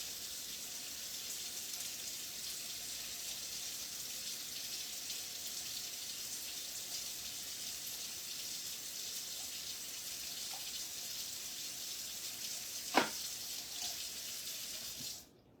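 Water runs steadily from a kitchen sink tap during salad preparation, a constant close hiss with a single brief clunk near the end before it cuts off; no one speaks.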